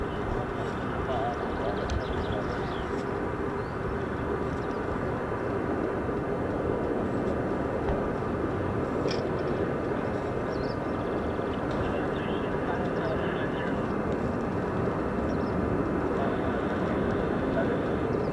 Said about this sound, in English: Looks like the F-35's done a low approach over at Mildenhall.